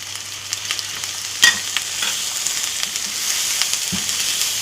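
Tomatoes, green chilies and spices such as coriander powder fry for tinda sabzi in a pan, giving a loud, continuous close-up sizzle with a couple of brief stirring knocks.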